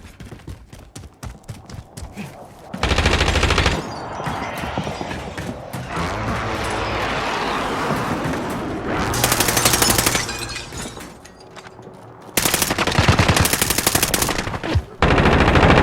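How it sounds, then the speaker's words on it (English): Assault rifle gunfire erupts in several rapid automatic bursts, loud and close, separated by stretches of clattering mechanical noise and lower rumbling. "Assault rifle."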